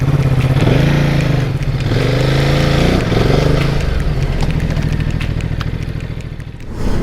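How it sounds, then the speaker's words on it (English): A 2018 Ducati Multistrada 950 motorcycle being ridden, its engine loud and close with rising and falling revs through gear changes, then a steadier drone that eases off near the end. "I'm driving a Ducati Multistrada 950 from 2018"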